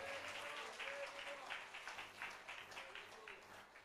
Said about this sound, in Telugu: బిగ్గరగా చప్పట్లు కొట్టి ప్రభుని కనపడదాం ఒకసారి